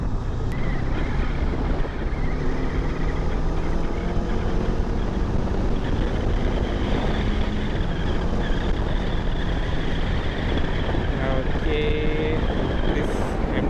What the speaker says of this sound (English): This empty helmet doesn't block any kind of wind.